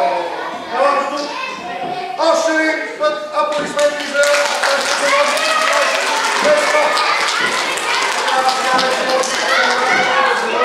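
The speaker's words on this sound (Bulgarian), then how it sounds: "Още един път аплодисменти за нашите помощници." Applause for helpers at a children's road-safety event: scattered taps and voices at first, then a dense, sustained round of clapping filling the second half.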